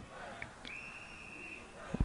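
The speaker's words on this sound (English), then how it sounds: "There's a whistle." A single sustained referee whistle blast at an ultimate frisbee game, clear and fairly close over faint crowd and field ambience.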